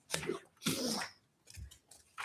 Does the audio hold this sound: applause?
no